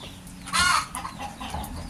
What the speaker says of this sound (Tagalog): kasi maingay itong mga manok